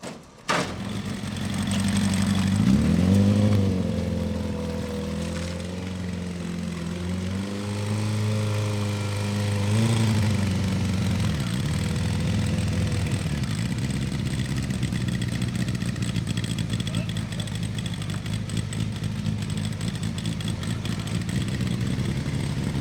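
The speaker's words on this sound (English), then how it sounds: "First time starting it today, and it all ran well and started first try" A racing motorbike engine fires up for its first start of the day and keeps running, a close, loud, buzzing mid-pitched drone with a few rising and falling revs early on before settling into a steady idle, with no talk.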